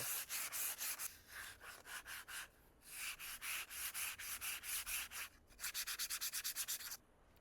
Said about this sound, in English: just going to go over this with a light sand